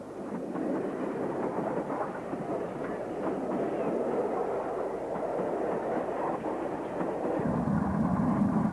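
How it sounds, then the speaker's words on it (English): A 1927 Collett-built King-class steam locomotive passing with its train at Snow Hill, a continuous loud rumble with clattering wheels and rolling rail noise, steady throughout and without voices. "one of the majestic King-class locomotives built by Collett in 1927"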